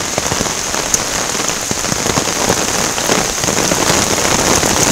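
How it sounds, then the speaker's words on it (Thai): Steady heavy rain patters on a surface, a dense, continuous hiss with scattered louder drops throughout. "มีแต่ฝน"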